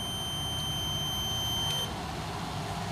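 A multimeter gives a steady continuous continuity beep across a shorted C1815 transistor tested base to emitter during a Ahuja 1000W amplifier repair. The tone is loud and unbroken, with a constant hum underneath.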